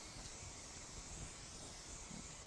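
Spray shortening hisses from a can into a fry pan in a home kitchen before ground turkey is browned, a steady close spray of broadband hiss with no pauses.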